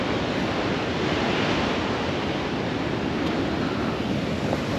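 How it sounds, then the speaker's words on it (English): Massive ocean waves break and roar in a steady, loud wash of surf seen from a mountain viewpoint, with wind buffeting throughout and no voices. "the waves break down massive"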